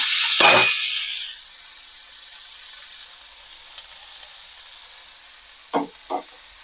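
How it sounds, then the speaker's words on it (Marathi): Cabbage tipped into a hot pan for a simple Maharashtrian tiffin vegetable, giving a loud burst of frying sizzle that fades to a low steady hiss, with two brief stirring scrapes near the end. "आता हा कोबी आपल्याला याच्यात घालून घ्यायचा"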